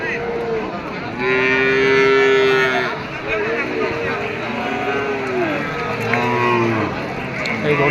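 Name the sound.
cows at a cattle market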